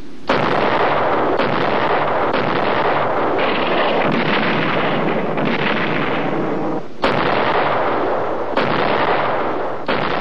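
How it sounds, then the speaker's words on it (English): Booming heavy naval gunfire from U.S. Navy warships off Vietnam rolls on continuously, with sharp blasts near the start and again partway through over a constant wind-buffeted roar. "This is naval gunfire support, a mobile source of big gun reinforcement for friendly troops ashore."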